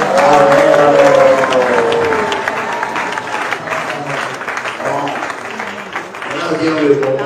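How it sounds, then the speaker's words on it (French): Church wedding congregation applauding and acclaiming, a loud sustained wash of clapping and crowd voices with a voice speaking over it. "tout le monde acclame le Seigneur en disant Amen, Amen."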